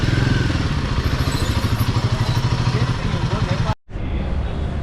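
A Royal Enfield Himalayan 450 motorcycle idling close by with a loud, steady, thumping exhaust pulse before the engine cuts off abruptly near the end, leaving quieter background noise.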